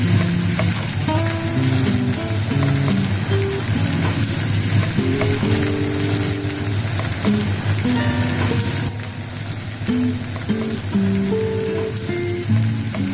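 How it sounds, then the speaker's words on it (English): Onions and green chillies frying in oil, a loud, constant close-up sizzle with crackling pops, scattered soft stirring knocks and faint background tones running throughout. "Fry onions and chillies until golden."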